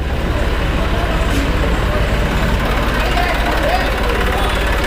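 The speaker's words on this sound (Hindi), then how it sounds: "आज तो ये ट्रैक्टर वेक्टर चल रहा है बहुत।" Tractor engines run and idle at the Farrukhabad potato wholesale market, a steady close rumble with traffic-like background noise throughout and a voice murmuring underneath.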